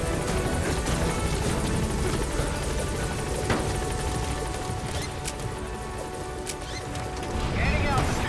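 A helicopter in the video game Metal Gear Solid V lifts off from a landing zone, its rotor chop a steady loud wash under game radio chatter and voices, with a few impact thuds.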